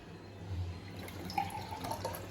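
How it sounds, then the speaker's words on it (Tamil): Tap water runs into a container as a steady, soft trickle and splash, fairly faint and close, with no voices. "ஃபஸ்ட்டு தண்ணி பிடிக்கணும்."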